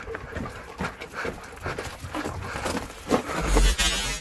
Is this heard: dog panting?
yes